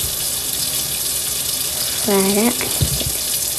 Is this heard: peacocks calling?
no